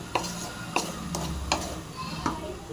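Ridge gourd sautés in a pan for a coconut water dish, with a gentle sizzle under rhythmic spatula taps and scrapes about every half second, close up.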